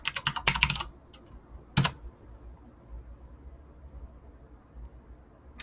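A password is typed on a computer keyboard in a fast flurry of close, crisp keystrokes, followed by a single firmer key press a moment later, then quiet room tone.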